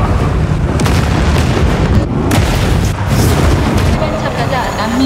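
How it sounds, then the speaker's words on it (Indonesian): A film explosion and collapsing building: a loud, sustained rumbling roar of blasts and crashing debris, dense and continuous, with a voice speaking over the din. "Ledakan terjadi dan gedung runtuh."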